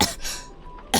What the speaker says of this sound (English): That was a voice actor. That was actually coughing.